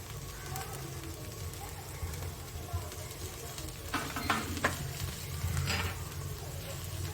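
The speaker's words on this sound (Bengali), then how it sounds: "সব মশলাগুলো দিয়ে আবার একটু ভালো করে ভেজে নেব" Spices for khichuri fry in a pan, making a continuous low sizzle with a few stirring scrapes clustered midway, all at a moderate close level.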